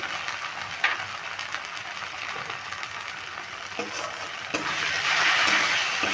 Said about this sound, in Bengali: এটা সমস্ত মশলাগুলো ভালো করে কষিয়ে নেব